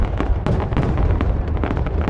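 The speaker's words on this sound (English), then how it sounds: "for the rest of the fireworks show, I'm just gonna let you enjoy the pyrotechnics" New Year's Eve fireworks burst over the Saigon riverside in a dense, rapid barrage of loud booms and crackling pops, near and continuous with no gaps.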